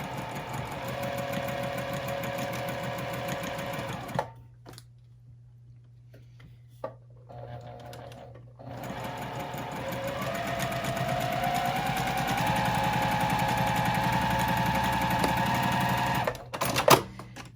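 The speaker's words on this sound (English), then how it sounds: "when you're sewing this center seam here is that you don't want to tug at it as you're sewing" Sewing machine stitching a center seam on a garment, a steady motor whir running in several stretches with a short pause midway, close and fairly loud.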